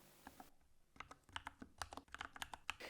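Computer keyboard typing a floating point number, a quick run of crisp, close key clicks in an uneven rhythm after a brief pause, fairly quiet with no talk.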